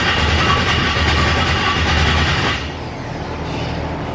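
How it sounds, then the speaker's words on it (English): A turbocharged Ford Ranger engine cranks over with a loud, rhythmic, chugging churn that drops off abruptly about two thirds of the way through, leaving a softer steady rumble. "I just love to let you guys listen to the sound of this thing when it tries to crank over"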